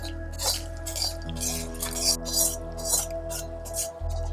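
A spoon scrapes and clinks against a pan and bowl while a fried tempering of dried red chillies and asafoetida is transferred, giving repeated light metallic taps and scrapes over a steady low hum.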